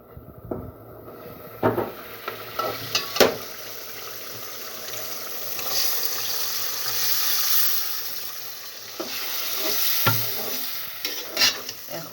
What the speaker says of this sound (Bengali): আধা ঘন্টা ধরে কষাবো।